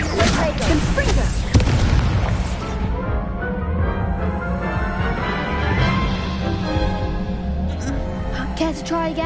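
Confringo fire spell explosion in the video game Hogwarts Legacy, a sharp blast with booming impacts and crackling, amid combat sounds and game voices.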